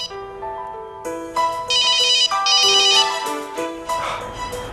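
A mobile phone ringtone plays a bright, repeating electronic melody, loud and close, with no voices.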